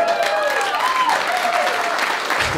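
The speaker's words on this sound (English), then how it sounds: "Thank you for clapping." Audience applause at a stand-up comedy show in Wisconsin, a steady dense wash of clapping filling the clip at close, loud level, with faint tonal whistles or cheers gliding above it.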